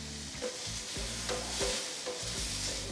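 Shrimp and stir-fry ingredients sizzle steadily on a Pit Boss Ultimate griddle, a constant loud frying hiss broken by repeated scraping and stirring strokes of a spatula.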